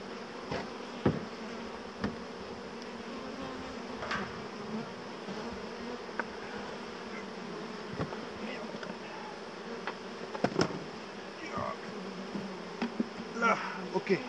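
A dense swarm of honeybees hums continuously around an open hive, a steady close buzz with occasional louder individual bees passing near and faint handling knocks underneath.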